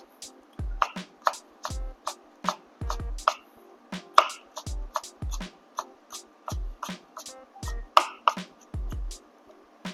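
A knife julienning vegetables on a cutting board, each stroke a sharp close tap in an irregular quick rhythm, roughly twenty chops with short pauses between bursts.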